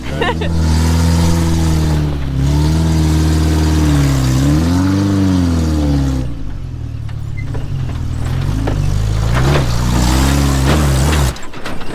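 Small homemade off-road wrecker, hotwired to start, driven hard with its engine revving and changing pitch loudly and continuously up close, the note sagging and rising before cutting out near the end.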